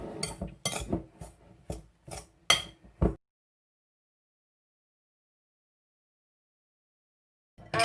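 Spoon stirring sugar into a butter mixture in a bowl for biscuits, a run of quick clinks and scrapes over about three seconds, then silence.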